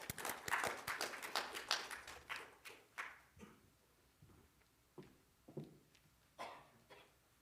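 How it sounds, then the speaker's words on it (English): An audience claps to welcome a speaker at an agricultural research event: a dense burst of applause that thins into scattered, sparse claps. "Please welcome him with a warm round of applause"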